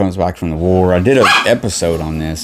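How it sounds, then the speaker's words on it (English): Pet dogs bark indoors, mixed in beneath someone talking loudly and steadily close to the microphone. "Sorry about my dogs."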